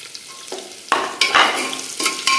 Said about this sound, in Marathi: कांदे फ्राय करून घ्यायचे